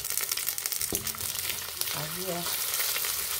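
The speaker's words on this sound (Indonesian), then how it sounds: "Kita tumis sampai dengan matang dan harum ya." Spice paste with bay leaves sizzles in a frying pan for a yellow fish broth, a steady close crackle with a stirring clink, while someone speaks briefly over it.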